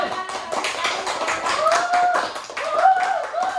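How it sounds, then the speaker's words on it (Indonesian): Clapping from a classroom audience for a student group at a school guidance session, a moderate run of irregular hand claps with faint voices and chatter mixed underneath. "tepuk tangan untuk kelompok 2"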